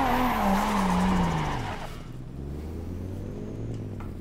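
Tire squeal from a car drifting in the racing sim Assetto Corsa, a loud high screech gliding downward over the first two seconds, then fading into a lower steady engine drone and road rumble.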